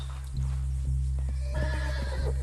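A horse in Red Dead Redemption 2 clops its hooves, then lets out a clear, close whinny over a steady low droning background.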